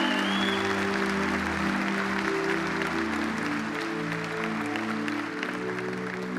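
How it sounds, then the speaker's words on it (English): A church congregation at a contemporary Sunday service applauds a children's choir, giving steady, sustained clapping throughout that is moderately distant, with music or organ tones held underneath. "Can you applaud for the work that our children's choir did?"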